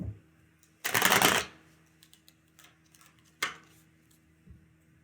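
Tarot cards being shuffled, a brisk riffling burst followed later by a single sharp card snap, close and fairly quiet over a faint steady hum.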